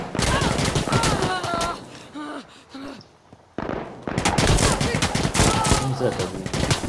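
Light machine gun fire in the online shooter Insurgency Sandstorm, loud sustained bursts of rapid shots with brief lulls, while players talk excitedly over the shooting.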